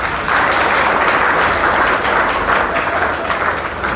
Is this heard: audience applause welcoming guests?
yes